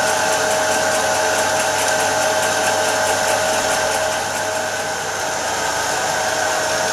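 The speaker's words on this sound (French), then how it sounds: "Donc évidemment, petit essorage, 300 tours minute." A Brandt Stato 46 washing machine on a gentle 300 rpm spin cycle, a loud, steady motor whine with a constant hum that dips slightly midway, no voices.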